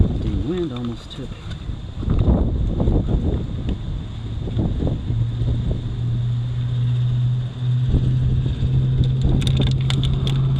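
Gusty wind blows outdoors beside a Volkswagen Jetta TDI during a repair, buffeting the microphone with a steady low rumble for the whole stretch, while a faint steady hum sits underneath.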